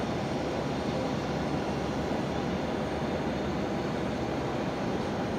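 A Singapore airliner and a Qantas freighter depart runway 01 at Brisbane Airport at night, a steady broadband jet engine roar at moderate distance, unbroken and without voices.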